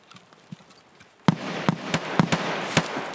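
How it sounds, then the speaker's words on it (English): Distant grenade blasts and gunfire ring out in Escape from Tarkov gameplay, a series of sharp cracks and booms spaced irregularly over a rumbling, noisy background that thickens partway through. "Grenades and gunfire ahead"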